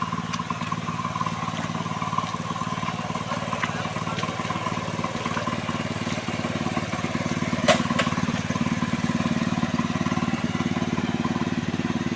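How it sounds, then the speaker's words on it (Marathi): A farm tractor's engine runs after starting, a steady low rumbling drone with a rough mechanical texture that holds constant and close throughout, with no speech. "बघा ट्रॅक्टर सुरू झाला."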